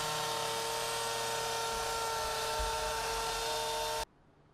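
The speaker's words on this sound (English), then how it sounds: "I have this little baby CNC, so I programmed it to cut a trim piece for the tunnel" A small CNC machine cuts a wooden trim piece for a model train display shelf tunnel, making a loud, steady, high whirring drone that runs without a break and then cuts off abruptly near the end.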